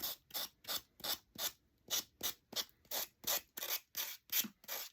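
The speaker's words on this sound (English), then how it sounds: "You just take your sander and you sand it off." A sander works off excess paper from a small cutting board that has a cut-out tulip applied to it. Steady, rhythmic rasping strokes repeat about twice a second, close and clear, with no talking.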